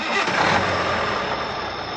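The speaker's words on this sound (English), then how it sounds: "Joe started the engine, and the journey began." Truck engine starting and settling into a steady, loud rumble that runs continuously throughout with no pauses.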